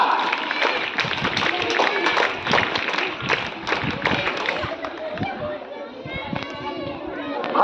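A crowd of children at a school farewell ceremony claps and cheers loudly, the dense applause mixed with shouting voices and gradually thinning toward the end.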